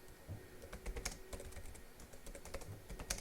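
Fingers type on a computer keyboard, producing quiet, steady clicking keystrokes in an irregular rhythm, close and alone.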